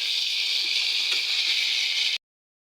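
A paste of ginger, onion and garlic with green chilli fries in a pan for mutton, giving a steady bright hiss close by that stops abruptly.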